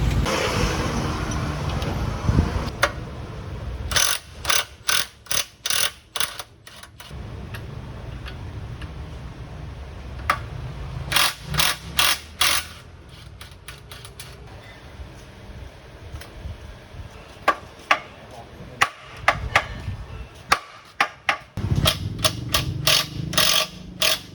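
Ratchet wrenches working on the control arm of a Mercedes W210 front suspension, bursts of rapid close clicking repeated many times with short pauses between.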